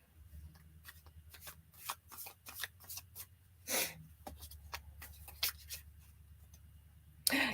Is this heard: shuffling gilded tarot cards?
yes